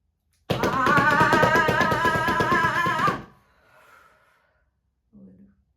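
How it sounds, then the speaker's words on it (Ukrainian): A deep, forceful inhale during a breathing exercise, a loud, breathy draw lasting nearly three seconds that cuts off abruptly, followed by a faint trailing breath and a brief soft sound. "Робимо вдих."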